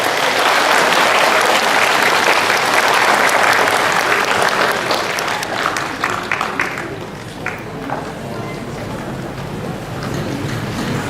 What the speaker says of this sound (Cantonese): 請再次以熱烈嘅掌聲，恭喜各位獲獎嘅老師同同學